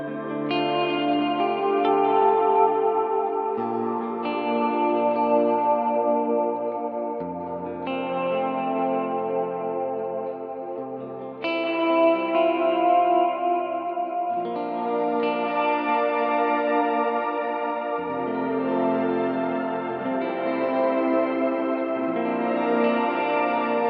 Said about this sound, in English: It's a big, lush reverb, and then I morph it up to a shimmer verb